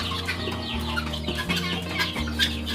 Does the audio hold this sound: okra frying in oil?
no